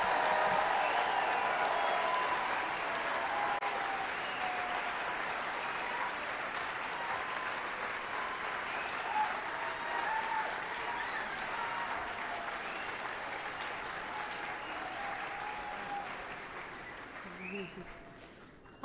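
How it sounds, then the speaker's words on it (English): An audience applauds graduates at a chemical and biomolecular engineering graduation ceremony, with sustained dense clapping from a large crowd that slowly tapers and fades out near the end. "let's give one last round of applause for all our graduates."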